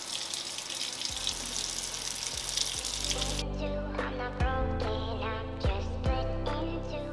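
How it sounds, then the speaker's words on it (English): Hot water from a tap running over a glass jar to loosen label glue, a strong splashing rush that shifts partway into lighter trickling and clinking against glass, with some faint low tones in the background. "I'm gonna run some hot water on it just to kind of loosen up the glue underneath"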